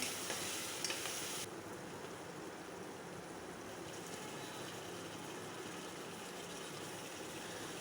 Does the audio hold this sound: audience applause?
no